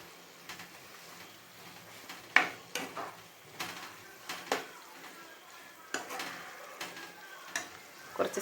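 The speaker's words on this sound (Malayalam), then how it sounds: "തേങ്ങയും ശർക്കരയും കൂടെ ഒന്നുകൂടെ നന്നായി ഇളക്കി യോജിപ്പിച്ച് കൊടുക്കുക" Jaggery and grated coconut stirred together in a pan, giving repeated soft scraping and clacking strokes of a spoon over a faint steady sizzle, close and moderately loud, with no talking.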